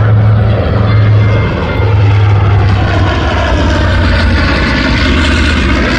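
A B-25 (PBJ) propeller bomber roars loudly overhead at an air show, its heavy twin-engine drone steady and close throughout as it flies past.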